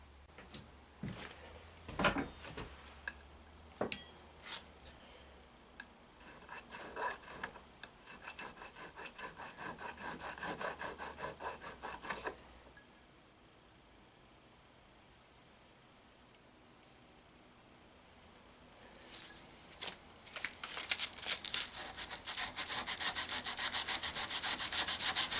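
A soldered carbide lamp is sanded by hand with quick, irregular raspy scraping strokes. The strokes go quiet for several seconds in the middle, then come back brisk and loud. Nobody speaks.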